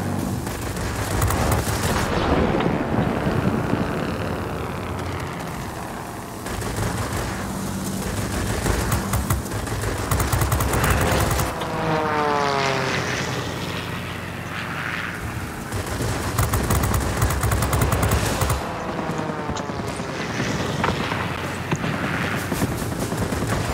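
Warplane engines and rapid machine-gun fire in World of Warplanes, a dense continuous roar with sustained bursts of shooting throughout, loud and busy, with brief radio-style voice alerts.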